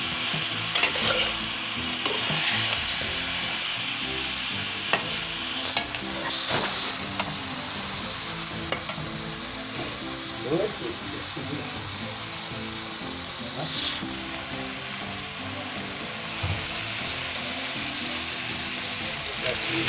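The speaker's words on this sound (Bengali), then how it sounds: "একটু ভাজা হয়ে যাবে একটু" Steady sizzling of food frying in a pan before rohu fish head is added, with occasional stirring clatter and a brief rise in hiss midway, and a voice speaking faintly underneath.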